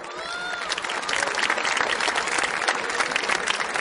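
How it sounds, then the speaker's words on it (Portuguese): An audience at a lecture by Dr. Lair Ribeiro on dialogue and mutual understanding breaks into dense, sustained applause, steady and full for several seconds with a faint murmur of the crowd underneath. "Uma salva de palmas para o professor Laí."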